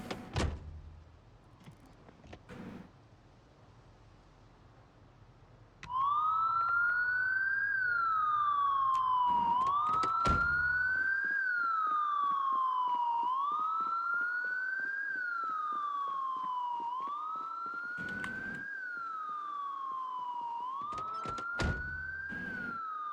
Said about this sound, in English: Oh, this one does have sirens in it.